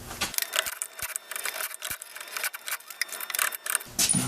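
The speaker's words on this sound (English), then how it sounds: "Now we're gonna undo the bolts." Metallic scraping and ratcheting as bolts are undone on the rear differential of a Jaguar F-Type (X152) with the AJ126 engine, a close series of short irregular clicks and rasps with a few sharp taps.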